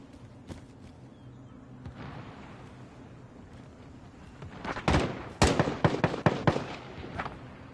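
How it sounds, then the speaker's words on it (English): Gunfire from enemies shooting down from above in a video game: a few scattered faint pops early on, then a dense burst of loud sharp shots clustered near the end. "They've just all popping shots from up top, all the way."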